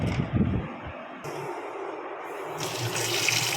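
Hot water poured over soybean chunks to soak them, a steady watery splash and pour that starts near and loud, then continues as a constant flowing rush through to the end.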